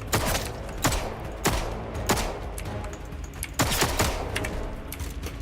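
Gunfire in the video game Atomfall, a series of sharp, loud shots fired in irregular bursts with a few rapid clusters, each followed by a short ringing tail.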